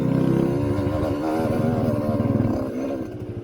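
A motorcycle engine runs close and loud with a steady rumble, shifting into first gear and pulling away; the throttle rises and falls briefly before easing near the end.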